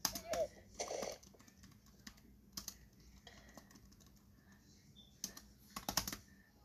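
Typing on a computer keyboard, with quick bursts of clicking keystrokes and scattered single key taps, fairly close and moderately quiet, with a few brief louder clacks.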